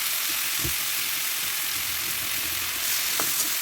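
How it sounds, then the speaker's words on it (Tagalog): Garlic, onion and shrimp paste sauté in a pan with a loud, steady frying sizzle that runs unbroken throughout, joined by a few faint stirring knocks and no voices. "Ayan, so igigisa natin yan ng maigi."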